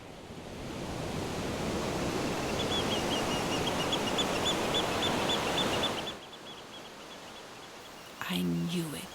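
Ocean surf rolling steadily as a broad, continuous wash of waves for about six seconds, fairly close, before fading out; no talk over it.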